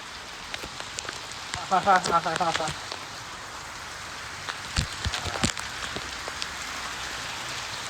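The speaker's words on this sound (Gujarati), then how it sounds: "મેં કીધું એટલે વરસાદ વધ્યો" Heavy rain pours down in Patan, a dense steady patter on surfaces throughout, with voices talking close by and a few sharp knocks and thuds.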